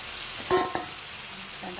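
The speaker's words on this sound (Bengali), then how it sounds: "এর সাথেই আমরা দিয়ে দিচ্ছি আলু" Potatoes dropped into hot oil with soaked spice paste in a home kitchen pan, cooking for a cauliflower curry: a steady frying hiss with a couple of sharp clatters as they go in.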